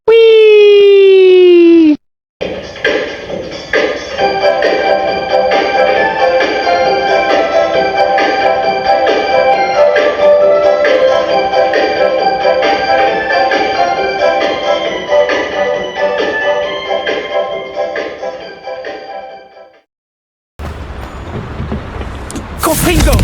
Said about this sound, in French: Ce chariot va m'emmener plus profondément dans la mine.